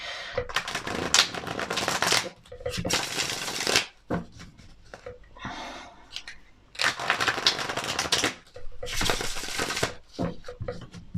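Tarot cards being shuffled close up in several bursts of dense riffling and flicking, separated by short quieter pauses with softer handling sounds.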